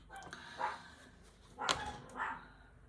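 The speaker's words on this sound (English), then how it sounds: "So now they are barking at each other through the fence." A chihuahua and a neighbouring dog bark at each other through a fence: three short, fairly distant bark bursts spaced over a few seconds against quiet room tone.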